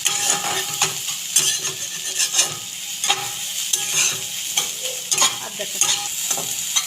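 Scrambled egg bhurji fries in a pan with a soft sizzle while a spatula scrapes and stirs in repeated sharp strokes, close and clear, and a voice briefly speaks over it.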